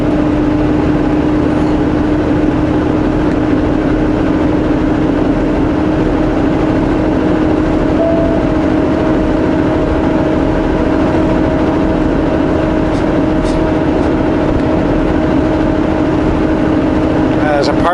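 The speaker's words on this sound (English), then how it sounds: "it's just car after car after car now" Morning highway traffic streams past in a continuous loud engine drone and road rumble, one vehicle after another with no break, and talk runs underneath.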